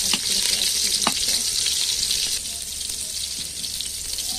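Sliced onions go into hot oil for mutton tehari and sizzle loudly, close up, a bright continuous crackle with a few sharp pops and spatters, easing slightly partway through.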